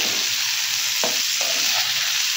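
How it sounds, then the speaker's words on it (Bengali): Pointed gourd sizzles steadily in a hot pan, with a couple of brief scraping stirs partway through. "ততক্ষণ ভাজা ভাজা আর একটু হোক"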